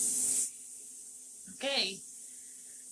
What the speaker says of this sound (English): the steam is coming out